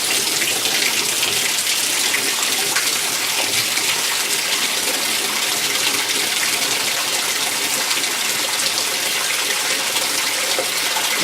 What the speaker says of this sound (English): Just going to put a little bit of water. Remember, this is just testing the machine.